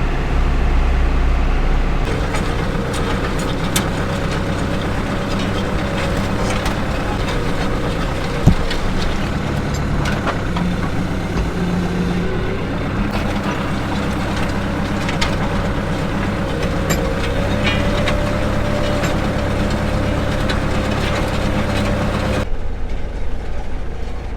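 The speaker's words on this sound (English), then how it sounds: "This right here is our 2-row cultivator that we use, and it works really, really well." A tractor pulls a two-row cultivator through rows of vegetable crops on a farm. Its engine gives a steady loud drone, with scraping and clattering from the implement in the soil, and a few sharp knocks along the way.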